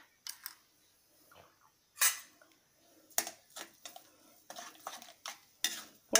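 A metal spoon stirs turmeric powder and salt in a cooking pot, with irregular scraping and clinking strokes against the pot, close and fairly quiet, with no talking.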